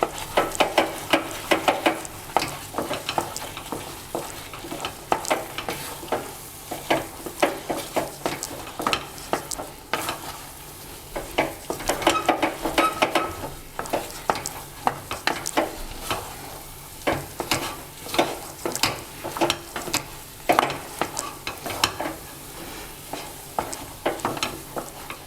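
Wheat flour halwa with jaggery is sautéed in a pan: a spatula scrapes and stirs in a steady, repeated rhythm over a constant soft sizzle, close up and with no talking.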